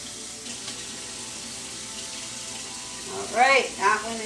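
Tap water runs steadily while a tie-dye shirt is rinsed and wrung under it, a soft continuous trickle joined near the end by a couple of louder splashy gushes.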